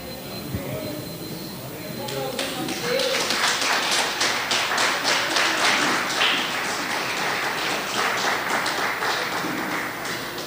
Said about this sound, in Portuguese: Essas palmas foi para Cláudio, foi?